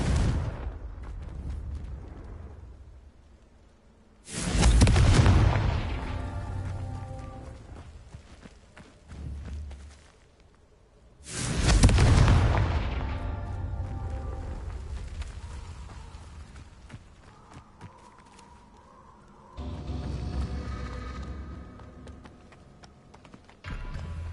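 Two loud magical blasts from the Confringo fire spell in Hogwarts Legacy, each a sudden roaring burst that trails off over several seconds, with rumbling game action and a softer third burst near the end.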